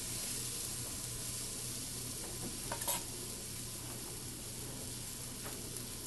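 Sliced onions fry in a hot pan, giving a steady, close sizzle with a few soft stirring clatters. No one speaks.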